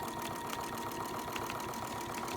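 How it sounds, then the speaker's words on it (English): Sewing machine stitching along a seam, sewing directly over previous stitching, a steady rapid mechanical whir with even rhythmic pulsing, close and continuous without pause. "you sew right on your previous stitching"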